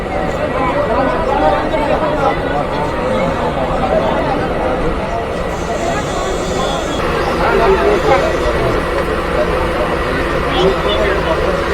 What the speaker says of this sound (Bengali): যেহেতু ভিড় এ কারণে নামতে পারছি না এই যে সামনে অনেক ভিড় রয়েছে